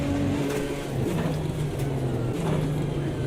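Race car engines in Automobilista 2, including a McLaren GT4, droning steadily with rising and falling pitch as the cars accelerate and shift, continuous and fairly close.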